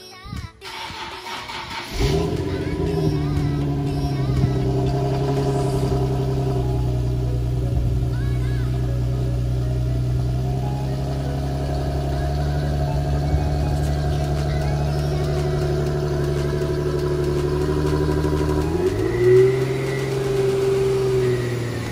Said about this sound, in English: first things first, we're gonna do a nice little cold start